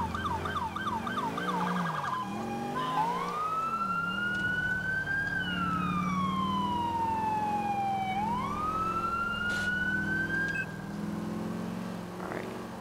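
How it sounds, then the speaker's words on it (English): The siren of an NYPD Charger police car in the LCPDFR game. It starts in a rapid yelp, then sweeps up and down in slow, loud wails over a running engine. "I need to use your sirens."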